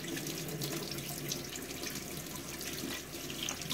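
Steady stream of tap water running into a kitchen sink as a zucchini is washed, a constant close splashing rush with no talk.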